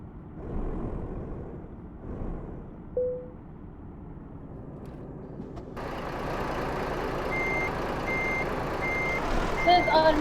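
Truck reversing beeps during automatic parking in a truck simulator video game, a regular series of high beeps starting partway through over a low engine rumble, with a voice talking early on.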